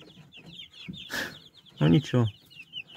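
Chickens in a coop with young hens and roosters, giving scattered close clucks and a couple of louder squawking calls, with a man's brief word between them.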